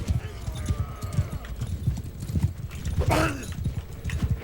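Many horses' hooves clip-clopping and rumbling in Mount & Blade 2: Bannerlord, a dense irregular patter of hoofbeats with a brief whinny partway through, heard under ongoing game noise.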